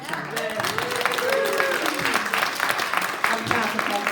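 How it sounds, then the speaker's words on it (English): Continued applause from an audience honoring a woman named Shauna, clapping that fades under overlapping voices and a few cheers or whoops, the crowd noise staying steady but less distinct than full clapping. "continue the round of applause one more time for Shauna."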